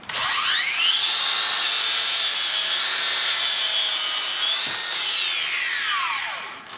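A Makita 40V 216mm LS002G cordless mitre saw with its dust bag fitted spins up to a loud high whine, bites through a piece of wood for several seconds, then winds down as the blade slows.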